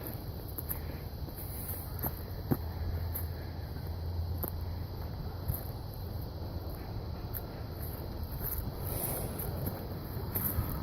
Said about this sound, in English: The wind's out of the south